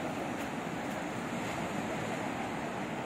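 Black Sea surf along the Odessa shore on an October evening: a steady, unbroken wash of waves with some wind buffeting the microphone, heard at moderate distance without any voices.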